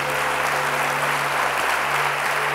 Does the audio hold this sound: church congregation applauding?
yes